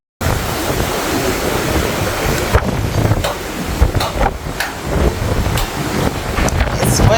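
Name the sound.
wind on a ship deck at sea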